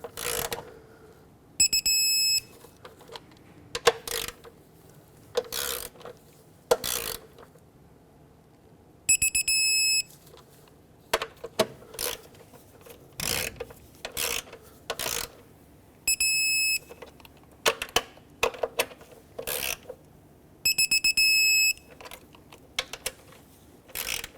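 Torque wrench tightening VVT solenoid bolts on a Ford Flex, sharp ratcheting clicks in short bursts with a repeated electronic beep pattern several times, close and alone without talk.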